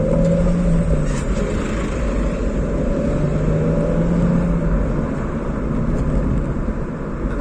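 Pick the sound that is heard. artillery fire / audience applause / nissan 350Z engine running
nissan 350Z engine running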